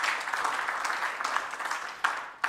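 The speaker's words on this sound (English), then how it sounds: "Can we give our chairperson another round of applause" An audience at a stakeholder roadshow in Gqeberha claps for the chairperson, a moderate, uneven patter of many hands that swells briefly near the end.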